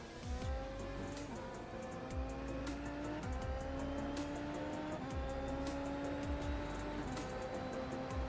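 Simulated Super Formula open-wheel race car at Suzuka in iRacing, its engine screaming steadily with repeated upshifts and downshifts over the whole stretch, loud and close as from the cockpit, with occasional tire squeal.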